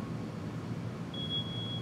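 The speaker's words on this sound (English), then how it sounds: "Oh, just knocked the water sensor over. Beep, beep." A knocked-over water sensor gives off a thin, steady high-pitched electronic tone that starts partway through and holds to the end over a low room rumble.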